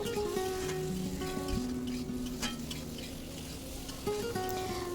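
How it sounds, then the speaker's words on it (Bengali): Tomatoes frying lightly in a pan for Bengali fried rice made with leftover rice and egg, giving a soft, steady sizzle at close range with a few faint clinks and no talk. "এবার টমেটোগুলোও দিয়ে দিলাম টমেটোটাকেও হালকাভাবে ভেজে নিতে হবে"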